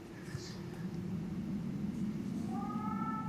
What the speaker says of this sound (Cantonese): 貓叫喂，似啲 BB 喊聲嗰啲喎